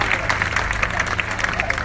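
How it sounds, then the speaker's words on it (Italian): A crowd at an outdoor political rally in a Palermo square claps in dense, steady applause, loud and close throughout. "Gian Piero Tizzino, Giancarlo Cancellei, un applauso"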